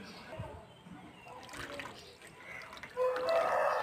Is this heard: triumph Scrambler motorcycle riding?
no